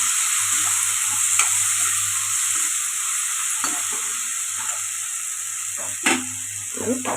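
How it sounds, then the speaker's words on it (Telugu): Tomatoes fry in a pan for an egg curry, a steady sizzle running throughout with scraping stirs and clinks of a spatula at intervals, close and fairly loud, with no voices. "టమాటా కూడా బాగా మధ్యలాగా ఫ్రై చేసుకుందాం"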